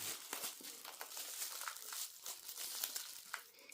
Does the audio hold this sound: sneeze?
no